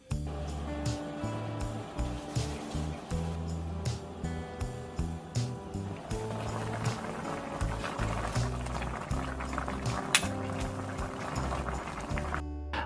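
Young squash and vegetables go into a bubbling Korean stew pot, with soft plops and clatter over a steady low simmer rumble and occasional utensil clinks, heard up close.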